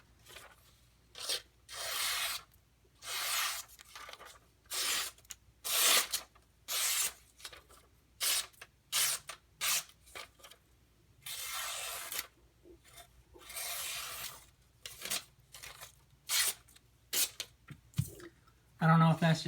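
A steel knife blade is drawn across a Gritomatic silicon carbide benchstone in a steady rhythm of gritty, rasping strokes, each about half a second long, repeated many times with short pauses between them.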